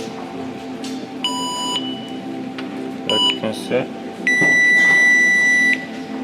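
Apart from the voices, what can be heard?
aftermarket reverse parking sensor buzzer beeping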